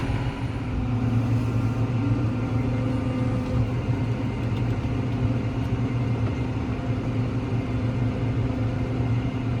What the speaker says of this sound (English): So I'm going to run over this with the disc, everything twice.